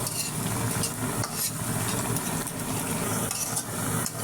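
Gondhobhadal leaf fritters frying in hot oil, a dense continuous crackle and hiss heard up close, steady and unbroken for the whole stretch with no talking.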